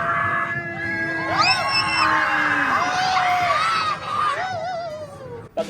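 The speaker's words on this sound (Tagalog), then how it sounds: "sabay-sabay kaming sumigaw sa saya" A crowd of people screams and whoops with joy inside the Kiva Tunnel at Kemah Boardwalk in Galveston, shrill overlapping cries rising and falling for several seconds, with children's voices among them.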